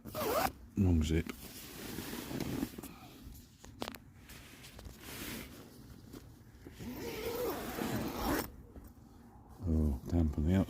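A long zipper is drawn open twice while wild camping in woodland, a quick rasping burst near the start and another near the end, with quiet talk and soft rustling in between.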